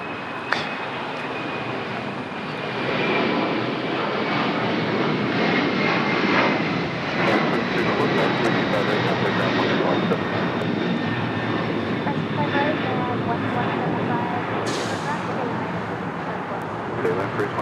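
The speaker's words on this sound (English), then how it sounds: "And he's going to grab the LATAM 767. Take it off now." A LATAM Boeing 767 takes off from LAX with a building, sustained jet engine roar and a faint whining tone sliding gently downward as it climbs. A voice speaks intermittently over the noise.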